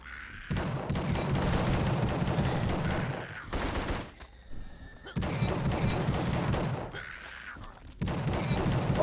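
A Tommy gun fires in long rapid automatic bursts in a video game, loud and close, its rattling volleys broken by short pauses and a brief mechanical whine before firing resumes.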